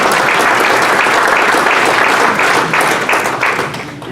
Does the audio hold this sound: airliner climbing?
no